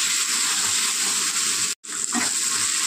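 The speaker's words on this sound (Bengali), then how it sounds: "এবার এটা দিয়ে খুব ভালো করে কষিয়ে নেব" Chicken and pointed gourd seed paste sizzles and fries in a pan as it is sautéed, a steady hissing broken by a brief stir or pause near the middle.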